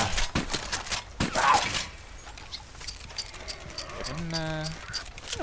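Horse hooves clip-clop in the online version of Red Dead Redemption 2 during a cougar encounter, a run of close hoof beats among other game sounds, with a person talking over it.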